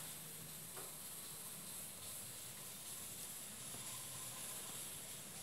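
Water simmering in a roasting pan with leftover seasonings for roast chicken with vegetables, a steady close hiss and sizzle that holds at an even level throughout, with no voices.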